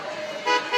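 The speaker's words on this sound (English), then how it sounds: "I don't usually respond to people honking the horn at me" Car horn honking amid the bustle of an MLK Day street festival in Inglewood, a couple of brief honks rising over steady crowd and traffic noise.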